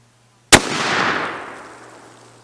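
A single flintlock rifle shot fired at a baseball outdoors: one sharp, loud crack followed by a long, rumbling echo that slowly fades over two seconds.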